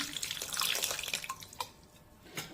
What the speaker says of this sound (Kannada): ಕಲಸಿಟ್ಕೊಂಡಿದ್ದಂಥ ಹುಣಸೆಹಣ್ಣು ನೀರು ಹಾಕ್ತಾಯಿದ್ದೀನಿ